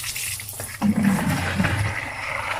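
Water running and splashing from a tap or hose while containers are filled, a steady broadband gush that swells after the first second and continues under faint background noise.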